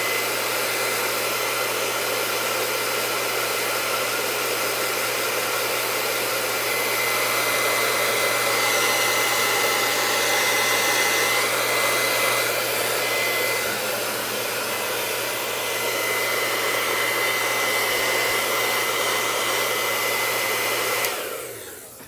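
Hair dryer blowing on ribbon paint on a decorative pillow, a loud continuous whooshing hum held close for about twenty seconds before cutting off.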